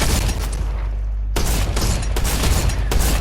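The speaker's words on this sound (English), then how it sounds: "my shotgun pellets are not hitting him through the webbing" Shotgun blasts in Fortnite Zero Build, several loud, sharp reports in quick succession with heavy low-end thumps, the first followed by a brief lull before the rapid shots resume.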